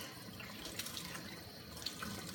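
Water running steadily from a tap while a stay wet acrylic painting palette is rinsed under it, a soft continuous splashing with a few brief spatters, close and alone without talk.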